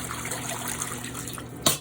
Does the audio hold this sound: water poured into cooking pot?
yes